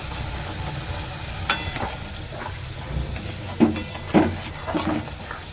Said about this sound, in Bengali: এই মশলাটা একটু কষে যাওয়ার পরে আমি পরে মাংসগুলো দেবো